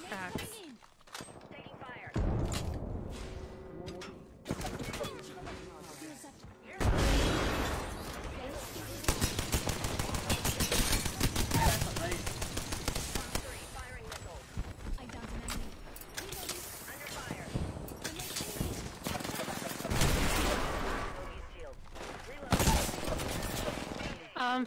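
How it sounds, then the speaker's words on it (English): Gunfire in the video game Apex Legends: rapid bursts of automatic weapon fire, some close and loud, others more distant, with players talking over the shooting. "Trying to shoot them through cracks."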